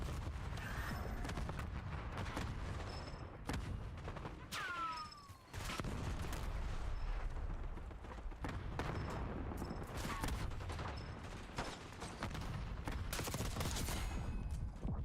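Gunfire in the Black Ops 6 video game, with repeated bursts and single shots over dense, loud battle noise, including some hip fire and occasional louder blasts.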